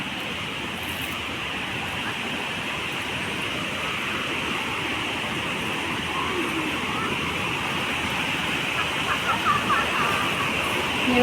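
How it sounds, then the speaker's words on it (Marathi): A village river flows with a continuous, even rushing hiss that grows slightly louder toward the end, with no clear voices above it. "ही नदी है"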